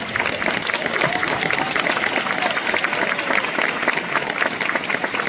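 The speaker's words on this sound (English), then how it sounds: "A round of applause if she's made everybody here proud." Hall of Fame induction ceremony crowd breaking into loud, sustained applause, with dense clapping and a few voices mixed in, steady and close throughout.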